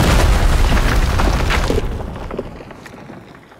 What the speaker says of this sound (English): That's the first bunker destroyed, but it won't be the last.